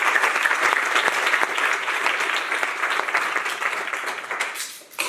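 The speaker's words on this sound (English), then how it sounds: "let's welcome Vedran with a huge applaud" An audience at a university entrepreneurship society talk applauds to welcome a speaker, a dense steady patter of many hands clapping close by, tapering off in the final second.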